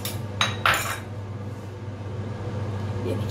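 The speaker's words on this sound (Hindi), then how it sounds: "इसे बिल्कुल ऐसे चलाते रहेंगे" A spoon scraping and clinking against a pan while a spice mixture is stirred with yogurt, two sharp metallic knocks early on followed by quieter, continuous scraping in a home kitchen.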